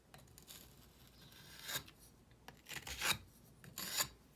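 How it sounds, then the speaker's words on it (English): Excess casting sand is scraped off a flask rim while setting up a ring sand casting, giving faint close raspy strokes with several sharper scrapes toward the end. "At that point, you would scrape this off."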